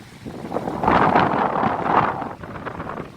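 Strong gusty wind batters a tent campsite on Jeju, rumbling loudly into the microphone in surging waves that swell, ease briefly and pick up again.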